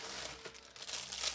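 Thin plastic bag crinkling and rustling during unpacking, a continuous close crackle with small surges in loudness.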